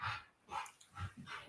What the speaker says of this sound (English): I know you can hear this going on in my hallway. The dog is just like running.